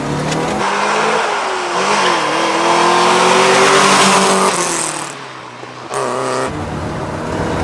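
Modified, high-mileage Mercedes 190E accelerating out of a turn on a track, the engine rising steadily in pitch through the gears with a brief dip at a shift, loud and close from inside the car.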